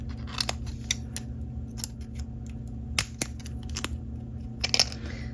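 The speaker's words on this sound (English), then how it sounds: "we are going to cut the top part with some scissors" Scissors snip through thin plastic while a miniature doll-size water fixture is cut and reshaped, a series of sharp, close clicks and crunches at irregular intervals over a low steady background hum.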